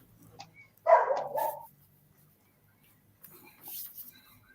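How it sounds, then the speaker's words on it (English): A single dog gives a short burst of barking at moderate distance, followed by quieter muffled noise a few seconds later. "My dog's barking."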